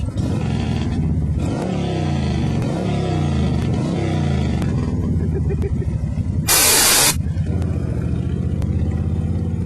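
A Vengeance Banshee motorcycle engine and exhaust while cruising and shifting, a loud, deep rumble that rises and drops through gear changes, with a brief sharp hissing burst partway through.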